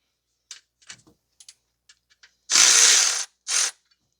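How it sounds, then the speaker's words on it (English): A ratchet loosens the alternator bracket pivot bolt on a 2012 Toyota Corolla 1.8: several sharp isolated clicks, then a long loud ratcheting burst and a shorter second one, close and clear with silence between. "So we're going to loosen up the pivot bolt."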